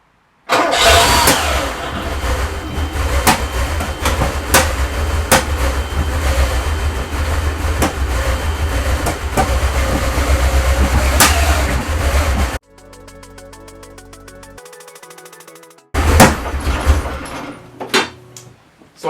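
A Porsche 928 V8 cranks and fires, then settles into a loud steady idle for several seconds before cutting out; after a short quiet gap it restarts and runs again, close and alone.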